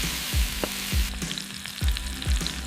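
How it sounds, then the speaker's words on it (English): Food sizzles and fries on a hot stone slab over a fire, a dense continuous crackle with repeated soft scraping or stirring strokes, close and steady with no voices. "Thin slices of meat, wild mushrooms, or even eggs. The stone became a universal frying surface."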